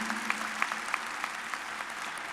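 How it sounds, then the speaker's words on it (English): Applause at a community college fall commencement ceremony, a steady wash of clapping from the audience in a large hall, moderately faint and continuous. "Another round of applause for Jose Feliciano, Sr."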